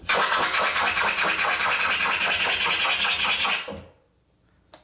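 Fast turntable scratching on a vinyl record: a rhythmic rasping scratch, bright and harsh with quick back-and-forth pulses, loud and steady before abruptly stopping, followed by a brief click.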